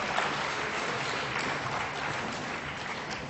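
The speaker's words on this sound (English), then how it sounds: "Give them a round of applause, because they were proper volunteers" An audience applauds volunteers at a talk, a steady, fairly dense patter of clapping that holds evenly for the whole stretch with no voices over it.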